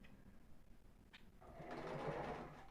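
A sewing machine runs a straight stitch along the edge of ribbed knit fabric, starting with soft handling noises and then whirring in a short, quiet, close burst.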